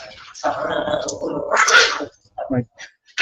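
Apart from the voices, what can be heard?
dogs playing and growling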